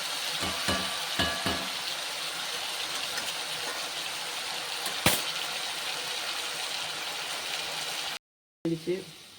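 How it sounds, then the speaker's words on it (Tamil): Chettinad potato masala cooking in a pan, a steady soft sizzle with occasional stirring scrapes and a sharp clank partway through, close and moderately loud, with no talking. "மூடி வச்சுட்டு திறந்து திறந்து கிண்டிக்கணும்"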